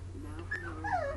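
Puppies whining in a house, thin high-pitched whimpers that rise and fall over a low steady hum, close and moderately loud, with no clear barks.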